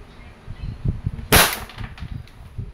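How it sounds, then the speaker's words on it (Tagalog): A single sharp crack from an Umarex Glock 17 Gen 5 pellet airgun, close and bright, set against low background murmur. "Glock 17 Gen 5 pellet version. Firing."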